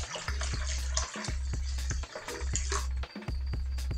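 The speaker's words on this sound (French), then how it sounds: "on vient rajouter un demi-litre d'eau" Half a litre of water poured into homemade laundry detergent, a loud close gurgling, splashing stream broken into a few short surges with brief gaps, no voices.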